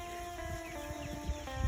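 Chickens in a backyard coop area under a canopy, soft intermittent clucks and low murmuring calls at moderate distance over a steady background hum, with a slightly louder cluck near the end.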